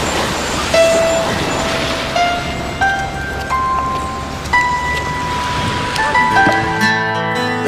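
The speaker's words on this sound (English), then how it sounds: "it's kind of raining" Rain falls as a steady hiss over an outdoor scene, mixed with passing traffic and tonal horn-like toots and rumbling, fairly loud and continuous.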